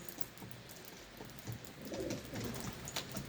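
Feather-footed wild pigeons coo softly in low, repeated throaty calls, faint against a quiet background with light rustling.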